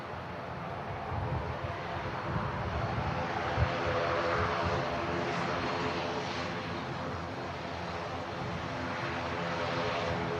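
An Air France jet at Manchester Airport spools up its engines. A broad, continuous roar carries layered humming tones and some wind buffeting, building slightly and holding steady at moderate distance.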